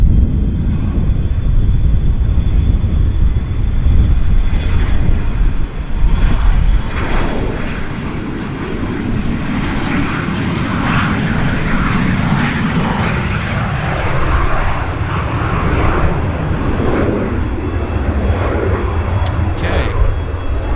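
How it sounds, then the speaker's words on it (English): A Dassault Falcon 50 business jet approaches an airport, its broad engine roar loud and steady throughout, with a low rumble swelling and shifting as it draws nearer. "BizJet time. Falcon 50 coming our way, actually."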